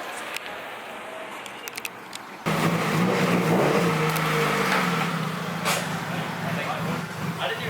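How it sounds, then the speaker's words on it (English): A Honda Integra pulls in close, its engine rising from a quiet idle into a loud, sustained drone with some revving, while voices talk in the background. "So check this Integra out. It's coming in here just in a second"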